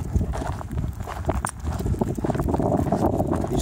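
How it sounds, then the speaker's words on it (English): Horse hooves clip-clop steadily outdoors, a continuous run of fairly loud, close hoofbeats with no talking over them. "You see her now? You see the horse?"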